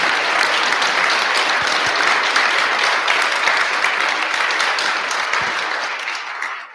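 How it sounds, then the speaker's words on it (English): A lecture-hall audience applauds at the close of a science talk for teachers, dense steady clapping that holds strong throughout and then tapers off near the end. "Round of applause."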